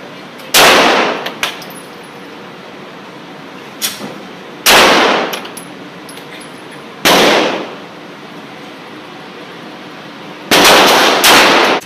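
Four loud, sharp Glock pistol shots ring out one at a time at a shooting range, each with a brief echoing tail and a few seconds of quiet between them; no one speaks.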